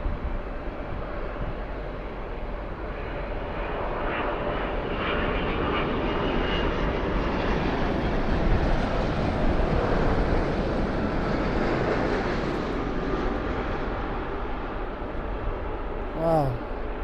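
British Airways airliner flying near Toronto Pearson airport (YYZ), a broad engine roar that swells and rumbles steadily for the whole stretch, fairly loud and continuous.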